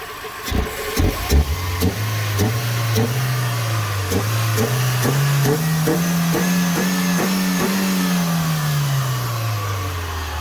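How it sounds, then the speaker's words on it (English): Engine of a car being checked for a fault, revved several times: a few quick blips, then a longer climb in pitch that holds and falls back toward idle. It is close, loud and steady, with no talk. "I'll just rev it a few times, see if it drops out"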